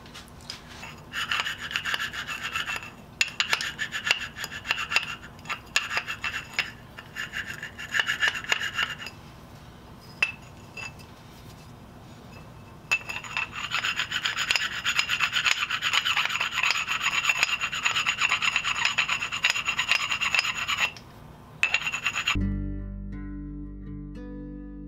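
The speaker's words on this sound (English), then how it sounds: "I'm going to go over this with some Scotch-Brite too" A Scotch-Brite pad scrubs the tailstock bore of a South Bend 9C lathe in steady rasping bursts, with short pauses between passes and one long continuous stretch before the sound cuts off.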